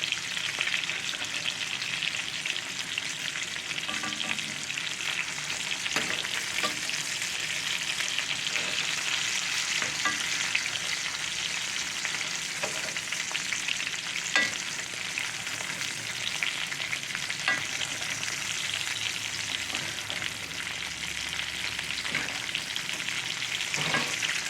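New York strip steak sizzling steadily in a cast iron skillet while being basted with garlic butter, a continuous close frying hiss with faint spoon clicks and spatter pops throughout.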